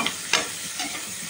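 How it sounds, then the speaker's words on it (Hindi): Onion, capsicum and green chillies fry in butter with a close, steady sizzle and a few quick stirring scrapes in a short burst without speech. "इसको हम फ्राई कर रहे हैं"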